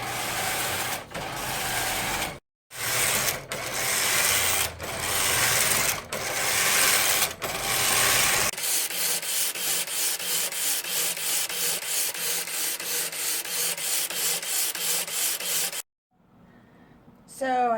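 A motorized knitting machine running rows, its carriage making loud sweeping passes with regular rhythmic clatter, then a steadier fast ticking run before a pause and a short whirring sound.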